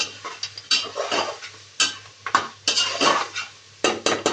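A metal spoon stirring spices into mutton curry in a pot, giving repeated clanks and scrapes against the pot in uneven bursts, loud and close, over a low steady hum.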